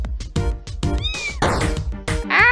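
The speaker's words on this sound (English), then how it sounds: "Scottish Fold seems appeased by Smokey's meow." A cat meows repeatedly and loudly up close, a series of drawn-out, slightly strained cries with short gaps, some rising into a wail.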